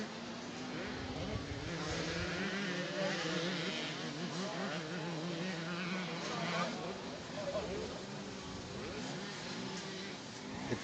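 Youth motocross bikes race on a dirt track, their engines whining and revving, rising and falling at a distance under steady crowd noise and voices.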